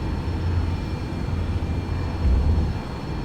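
Airliner engines roaring during climb-out in the X-Plane 11 flight simulator, a steady low rumbling drone with slight pulsing, fairly loud and unbroken, with no talk.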